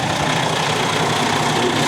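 A parked truck's engine idles at night, a steady, even low rumble with a faint knocking texture, constant and close with no talk.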